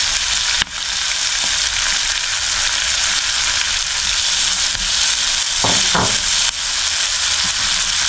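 Curry leaves dropped into hot oil for a papaya curry, setting off a loud, dense, crackling sizzle that runs steadily and close up, with a couple of brief clinks partway through.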